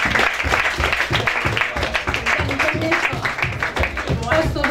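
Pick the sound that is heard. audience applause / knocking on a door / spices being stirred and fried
audience applause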